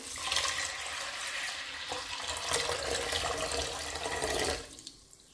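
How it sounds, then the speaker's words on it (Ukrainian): Water pours and splashes steadily into a pot of pearl barley, a close, rushing flow that continues for several seconds before cutting off. "У горниць висипаю крупу, заливаю водою."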